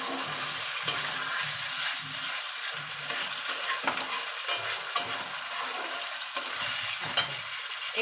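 Potatoes in a pan sizzle steadily after water is poured in, a dense, bright crackling hiss that stays even throughout with occasional soft stirring clicks, no voices.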